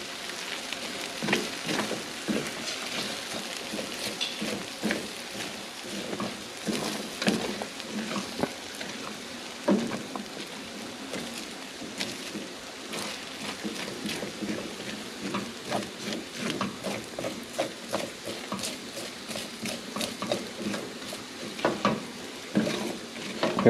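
An egg sizzles in an already hot pan, a continuous bright crackle and spatter running steadily throughout with small pops scattered across it, close and fairly loud, with no talking.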